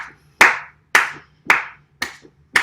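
Five sharp, evenly spaced claps ring out one after another, each with a crisp attack and a quick decay, as a person claps in time while marching in place during a dance lesson on rhythm. A low steady hum sits underneath.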